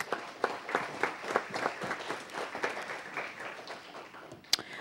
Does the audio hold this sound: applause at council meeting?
yes